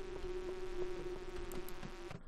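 Bees swarm in the farming video game Stardew Valley, making a steady, buzzing insect drone that holds for about two seconds, then cuts off abruptly.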